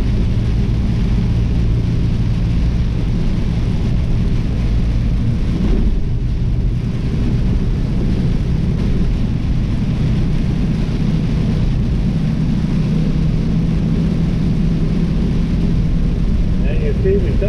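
Heavy rain and rumbling thunder from a severe Texas thunderstorm, a loud, steady low roar filling the whole stretch with deeper swells throughout.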